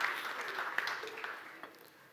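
An audience at the BİF2026 business management forum applauds at a panel Q&A, the clapping fairly soft and somewhat distant, fading gradually over a couple of seconds.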